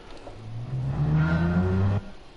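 Gran Turismo 7 car engine revving loud and steady, pitch climbing through the gears with a strong harmonic drone that holds for about two seconds before dropping off abruptly.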